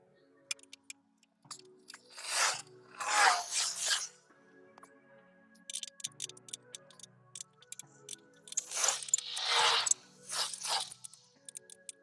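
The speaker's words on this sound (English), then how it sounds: "I'm gonna use a little pry bar." A small pry bar scraping and nudging a heavy truck battery sideways in the battery box of a 2016 Freightliner Cascadia, several short bursts of grinding scrapes separated by ticks and quiet gaps, close by.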